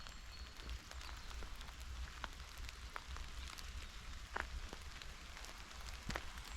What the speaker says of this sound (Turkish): Yağmur yağıyor şu anda.